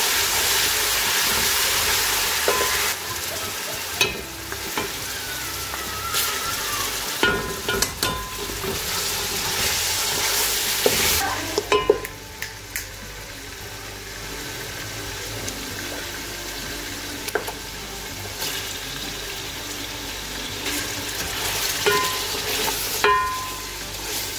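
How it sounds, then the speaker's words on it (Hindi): Veal frying with green chillies and garam masala for pulao makes a loud, steady sizzle, stirred with intermittent scraping knocks; the sizzle eases a little midway and then continues. "हम इसको अच्छे से सारा फ्राई करेंगे, सारा गोश्त"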